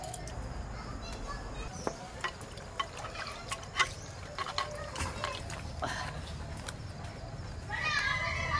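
Water trickling and dripping off freshly washed garden sour spinach leaves as they drain, a soft, uneven patter with a voice talking over it.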